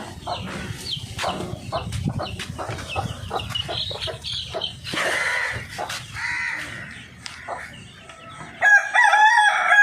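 Chickens clucking and squawking close by, a busy run of calls followed by louder, drawn-out crowing toward the end.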